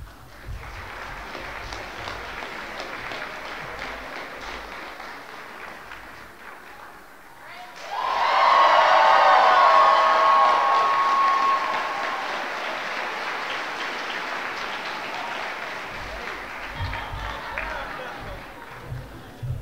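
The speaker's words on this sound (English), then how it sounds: "if you could all cheer really loud for the class of 2014," High school class day audience cheering and applauding, starting as low background murmur before a sudden loud burst of clapping and shouting from the crowd that peaks, then settles into steadier applause.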